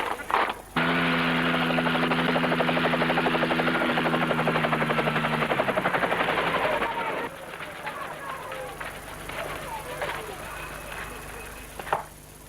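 Papal helicopter flying between Castel Gandolfo and the Vatican in summer: a loud, steady rotor thrum with a rapid chopping pulse for about seven seconds, then easing to a fainter drone beneath other sounds.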